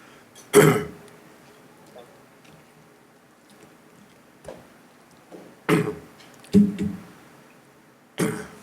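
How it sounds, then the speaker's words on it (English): A man clears his throat several times, with sharp raspy bursts spaced irregularly across a quiet room and no talking in between. "I'm going to be clearing my throat a lot."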